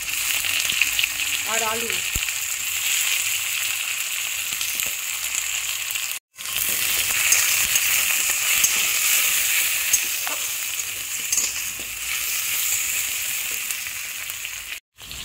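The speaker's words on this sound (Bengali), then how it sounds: "সামান্য আদা বাটা দিয়ে এটাকে ভালো করে একটু কষিয়ে নিচ্ছি" Onions, tomatoes and potatoes sautéing in a pan with cumin, ginger paste and green chilies, producing a continuous crackling sizzle with occasional stirring scrapes and a brief voice speaking.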